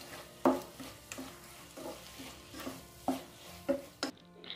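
Beef masala being stirred together with coriander, mint and curry leaves in a pan, with a soft sizzle under several distinct scraping and stirring strokes of a spoon against the pan, close by and moderately loud.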